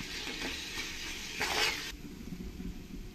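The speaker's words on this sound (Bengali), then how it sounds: "টমেটোগুলো দিয়ে ভালো করে আমি পেঁয়াজের সঙ্গে কষিয়ে নেব।" Tomatoes and onions fry in a pan for a chicken biryani, a brief hiss and sizzle with stirring scrapes and a louder burst of spattering midway, fairly quiet overall.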